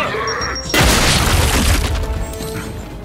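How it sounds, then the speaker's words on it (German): A grenade blast in the Gears 5 video game: a sudden loud boom that crashes in and then rumbles and rings out for a couple of seconds, with game effects continuing underneath. "Werfe Granate!"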